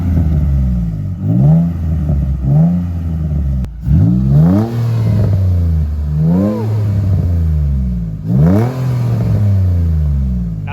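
Nissan G35 engine fitted with an HKS replica exhaust and H-pipe revving repeatedly, loud close rising and falling blips that climb and drop in pitch over a steady idle rumble.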